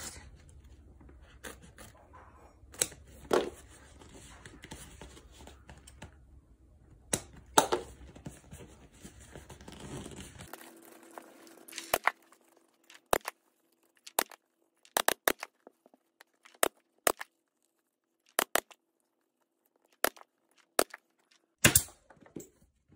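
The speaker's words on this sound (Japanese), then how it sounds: "もうハサミいっちゃいます。" Scissors cutting urethane foam while reupholstering a chair with a curved seat, heard as a series of crisp, irregular snips that stand out sharply in near silence after an earlier stretch of softer handling noise.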